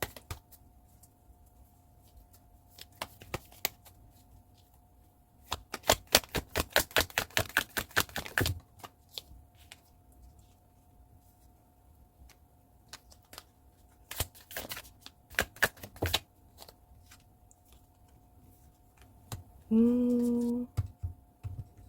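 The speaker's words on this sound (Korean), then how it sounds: "여러분을 위한 조언 카드까지 한번 뽑아보겠습니다" Tarot cards shuffled by hand in a few separate bursts of rapid riffling clicks, close and crisp against a quiet room, with a brief voice near the end.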